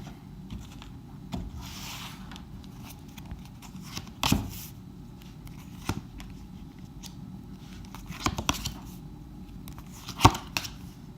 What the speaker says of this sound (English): Let's split your deck for you and get your 10 cards out.